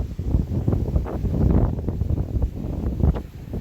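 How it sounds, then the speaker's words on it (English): Strong wind in Hawaii buffets the microphone in heavy, uneven gusts, a loud rumbling roar that rises and falls continuously with no voices. "It's really windy."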